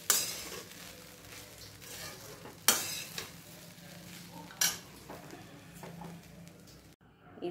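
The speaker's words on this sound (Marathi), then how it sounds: "आता इथे हे ताट काढून घ्यायचं आहे आणि एकदा हलवून द्यायचे आहे" Matar poha is stirred in a pan as the lid-plate comes off, with low sizzling under several loud metallic clanks and scrapes of a spoon against the pan.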